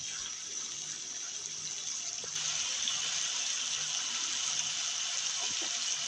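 A little water poured from a tap or jug into chicken spices frying in a pan, a steady close rushing gush that steps up slightly louder partway through and runs on alone.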